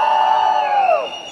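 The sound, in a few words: crowd cheering and applauding for a brand ambassador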